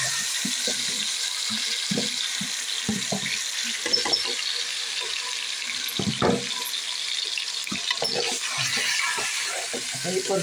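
Chicken pieces go into hot oil in a pot for biryani, giving a steady hissing sizzle broken by close knocks and clatters of stirring, with a brief voice now and then.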